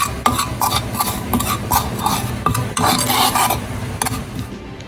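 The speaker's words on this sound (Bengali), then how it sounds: "হালকা হিটে গুঁড়ো দুধটা ঘিয়ের সাথে হালকা ভাজা হয়ে গেলেই তৈরি হয়ে যাবে আমাদের শর্টকাটের মাওয়া" Milk powder frying in ghee over low heat, stirred steadily in a pan with a spoon scraping and rasping against the metal in a continuous rhythm, close and fairly loud.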